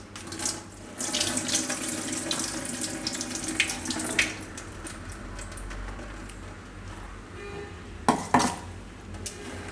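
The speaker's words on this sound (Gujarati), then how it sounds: "એને થોડુંક પાણીથી ધોઈ નાખશું." Water runs from a tap into a bowl while corn kernels are swished and rinsed, with occasional clinks of a utensil against the dish.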